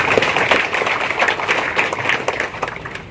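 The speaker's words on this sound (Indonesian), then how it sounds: "tepuk tangan untuk kita semua." A crowd at a project inauguration event in Puncak Jaya claps, moderately loud applause with distinct individual claps that gradually thins and fades toward the end.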